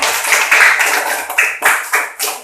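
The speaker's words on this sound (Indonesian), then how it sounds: "Tepuk tangan untuk teman." Classmates in a school lesson clap for a friend, a short run of close, crisp claps in an uneven rhythm, alone without talk.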